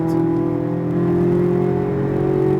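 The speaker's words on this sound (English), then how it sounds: "Start squeezing on the gas, use that exit to the right, full throttle." Corvette Z06 engine under full throttle on a race track, a loud, steady, slowly rising roar held throughout with no break, close and continuous.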